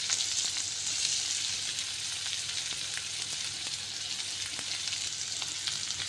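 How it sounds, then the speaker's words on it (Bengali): Onion and green chillies fry steadily in a wok, a continuous moderate sizzle heard close up with faint stirring clicks and no talking. "এখানে এখন আমি পেঁয়াজ ভেজে নেব আর লঙ্কা"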